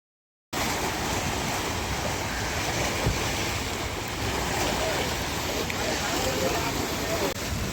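Waves on the Krishna River lap like sea surf, a steady broadband wash with wind rushing across the microphone, starting abruptly after a short silence and continuing evenly.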